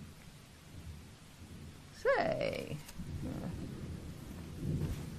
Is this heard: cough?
no